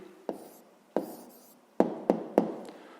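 Pen or pencil strokes on paper while an answer is written down, a handful of sharp taps and short scratches, close and distinct, with no talking.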